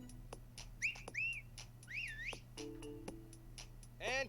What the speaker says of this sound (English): Whistle.